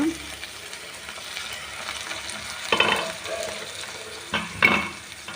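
Ingredients for wheat rava upma, with a little turmeric, sizzle steadily in a pan while a spoon stirs and scrapes twice, close by, with no one speaking.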